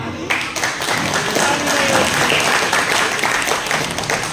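Audience applause at a live evening stage program: dense, steady clapping from a crowd that fills the whole stretch, with voices mixed underneath.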